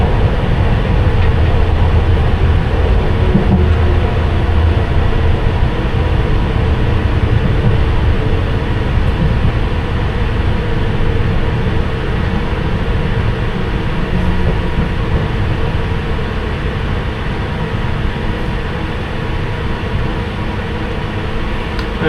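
A London Underground Piccadilly Line train heard from the rear cab, coming into Barons Court with a loud, continuous rumble of wheels and motors that stays steady throughout.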